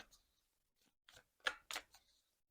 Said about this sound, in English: Get comfy as I'm shuffling the cards